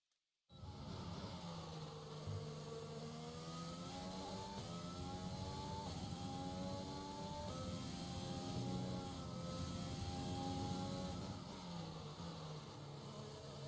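Formula 1 car engine in the racing video game F1 2020, a loud continuous high-pitched whine with steady gear-shift rises and drops as the car laps the track, running alone with no talk.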